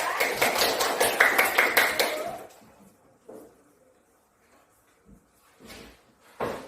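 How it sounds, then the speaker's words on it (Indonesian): A burst of rapid applause from a group, rhythmic and fairly close, lasting a couple of seconds before fading into quiet with a few scattered bumps. "Tepuk tangan buat Meta ya."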